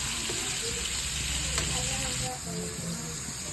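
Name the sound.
ground pork frying in a pan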